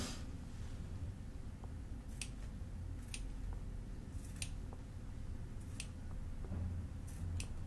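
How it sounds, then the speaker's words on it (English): Scissors snipping off loose ace bandage material, with several sharp, separate cuts spaced out over a low steady background hum, close and quiet, nobody speaking. "there's a little bit of ace bandage hanging out that you probably don't need. I'll just cut that part off."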